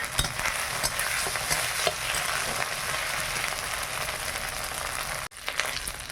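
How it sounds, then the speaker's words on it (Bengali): Ground ginger and cumin paste frying in hot oil, a dense continuous sizzle close by, broken by occasional stirring scrapes and a brief dip near the end, with no talking. "আদা জিরাটা ভালো করে ভেজে নেই"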